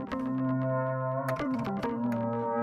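A clean, jazzy FM synthesizer tone built on a sine waveform, sustained notes playing steadily with a change of pitch about halfway through, alone with no talking.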